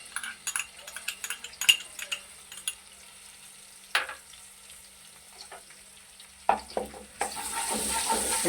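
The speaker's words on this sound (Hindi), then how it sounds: "अब मैं 1 चम्मच भर के लहसुन डाल रहा हूँ कुटा हुआ।" A spoonful of crushed garlic goes into a pan for frying, bringing light sizzling with scattered clinks of a spoon against the pan, then a louder burst of frying hiss toward the end.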